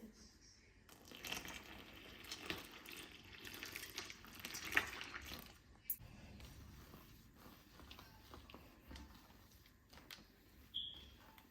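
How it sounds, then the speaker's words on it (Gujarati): Homemade butter is washed with cold water, producing faint sloshing and splashes with soft handling noises, busiest in the first half and quieter afterward. "હવે આપણે આ ઠંડુ પાણીથી ધોવીએ"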